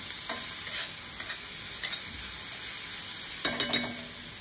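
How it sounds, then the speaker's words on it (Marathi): Chopped tomato and golden-browned onion fry in a pan under a steady sizzle, with several sharp spatula scrapes and taps spaced irregularly, the last cluster louder and closer together. "आता त्यामध्ये मी चिरलेला टोमॅटो घालून घेते। तो सुद्धा छान असं परतून घ्यायचा आहे।"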